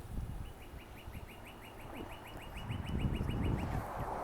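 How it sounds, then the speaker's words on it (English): A northern cardinal sings in the distance, a rapid series of short repeated whistled chirps running for several seconds over low outdoor rumble, with no speech. "I think that's a cardinal."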